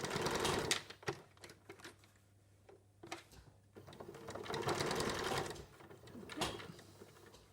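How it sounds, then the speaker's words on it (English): A sewing machine understitches a facing a couple of millimetres from the seam, running in quick rattling bursts that stop and start again, fairly quiet and close. "I'm now going to stitch a couple of millimeters"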